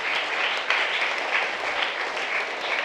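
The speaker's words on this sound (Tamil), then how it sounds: "கைத்தட்டி நாம் வரவேற்போம்" Steady applause from a church congregation welcoming parishioners and parish managers during a novena mass, dense continuous clapping at moderate loudness throughout, with no speech over it.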